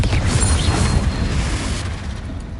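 Confringo fire spell blasts in Hogwarts Legacy, a loud booming explosion burst at the start that rumbles and crackles away over a couple of seconds.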